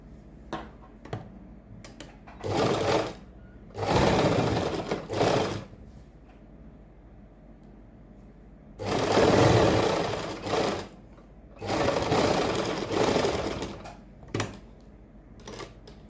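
A sewing machine runs in several bursts of rapid stitching along a kurti seam, separated by quiet pauses and a few isolated clicks, close and clear with no talking.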